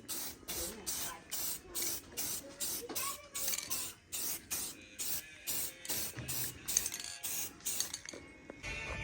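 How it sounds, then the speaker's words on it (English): Rust-Oleum metallic spray paint hisses from a can onto a $200 dirt bike's parts in about a dozen short, regular bursts, each broad and loud, with brief gaps between sprays. "let's hit this bad boy with some Rust-Oleum metallic."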